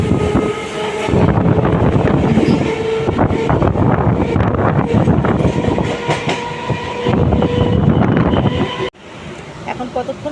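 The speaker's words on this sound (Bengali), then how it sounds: "ট্রেনে বসে পড়েছি ট্রেন যথারীতি রওনা দিল" A moving train heard from a seat inside the carriage gives a loud, continuous rumble with rhythmic clickety-clack and wind noise. Faint voices may sit underneath, and the level drops abruptly near the end.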